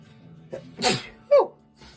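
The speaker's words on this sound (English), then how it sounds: "then I gotta sneeze" A single close, sharp sneeze bursts out, with a short breathy intake before it and a quick vocal tail after.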